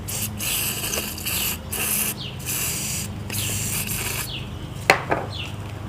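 Several short hissing bursts of WD-40 sprayed from an aerosol can during a Lawnboy Silver Series mower carburetor repair, close and moderately loud with brief pauses between sprays.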